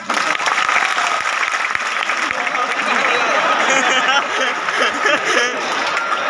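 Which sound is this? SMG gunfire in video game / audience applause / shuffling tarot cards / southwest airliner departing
audience applause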